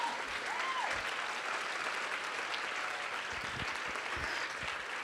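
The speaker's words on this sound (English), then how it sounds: "So let's give a round of applause." An audience at a women-in-technology summit claps in a full round of applause, a sustained, even patter of many hands with no talk over it.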